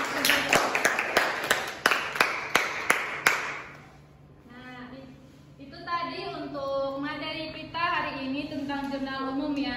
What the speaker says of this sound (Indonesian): kasih tepuk tangan dulu untuk kawan-kawan kalian yang sudah melakukan